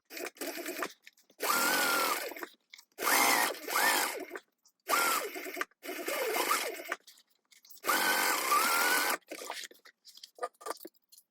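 A sewing machine stitching the side seams of a tote bag at a 3/8 inch seam allowance, in several loud, even bursts of fast stitching broken by short pauses and handling sounds.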